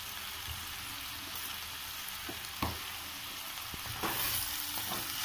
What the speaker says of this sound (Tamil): உப்பு எல்லா காய்கறிகளோடையும் மிக்ஸ் பண்ணுற மாதிரி கிண்டி விட்டுக்கோங்க